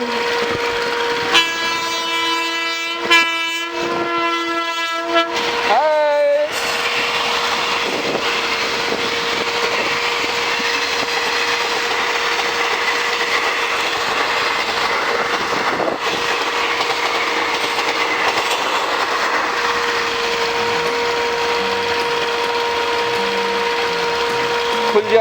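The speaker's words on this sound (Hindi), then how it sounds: "वो देखो सामने से आ रही है ट्रेन." Train passing a closed railway crossing on the way to Umbergaon, opening with a loud, repeated horn blast that is close and harsh, followed by a long steady rumble and clatter of wagons rolling past, with people talking in the background.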